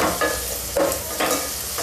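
Ingredients stirred and frying in a pan for an old-style traditional tiffin, a close continuous sizzle broken by rhythmic scraping strokes of a spoon about every half second.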